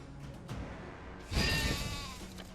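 Sheep bleat in the video game Commander Quest, a short quiet bleat followed by a louder, wavering cry that trails off.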